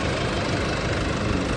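The turbo diesel engine of a 4x4 automatic pickup truck idles with a close, steady, even rumble that runs alone for the whole short stretch.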